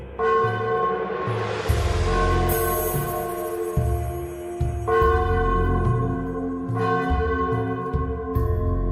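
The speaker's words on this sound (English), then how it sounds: "That night, the bell rang continuously." A village bell rings on and on, with repeated strikes whose long, resonant tones overlap and echo across a valley, loud and continuous with no voices.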